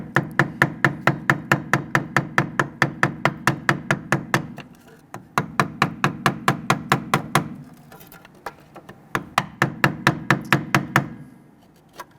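A tool gently taps a rear ABS sensor on the knuckle of a 2006-2012 Toyota RAV4. The sharp, close metallic taps come in quick, evenly spaced runs, pausing briefly between three bursts.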